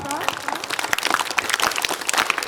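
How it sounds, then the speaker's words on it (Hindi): A group doing scout clapping during an International Yoga Day session claps hands in quick, scattered bursts while people talk. "नेक्स्ट स्काउट क्लैपिंग, दोनों हाथ बगल में लाइए और इसको ताली बजाना है।"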